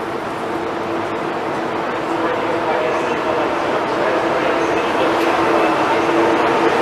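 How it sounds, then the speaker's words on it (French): An InterCity train pulls out of a station, a steady, close rumble of rolling stock that builds slightly in loudness over several seconds, with broadband rail noise throughout. "Voici un IC qui part."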